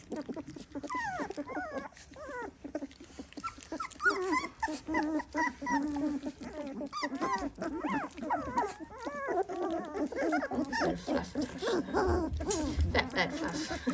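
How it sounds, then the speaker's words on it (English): A three-week-old Dalmatian puppy cries and whimpers for food in a series of high, wavering yelps and squeals, close and fairly faint, with someone talking softly at times. "Right, Miss Purple, you're going the wrong way and then you're shouting for food."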